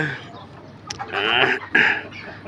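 An Aseel rooster gives loud, close clucking calls, a couple of sharp bursts over a murmuring voice and some farmyard background noise.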